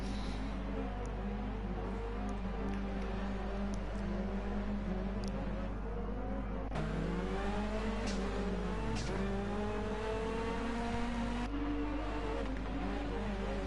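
Peugeot rally car in the Dirt Rally 2.0 racing game, Race of Belgium, a steady engine drone that rises and falls through gear changes, heard continuously without commentary.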